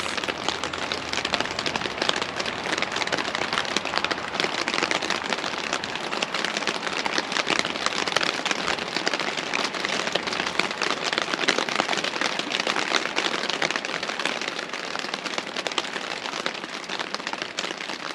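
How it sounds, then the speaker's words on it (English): Heavy summer thunderstorm rain pouring down outside an office, a dense, unbroken hiss of drops hitting surfaces that stays loud and even throughout with no voices. "Looks and sounds like a big summer thunderstorm is rolling through right now."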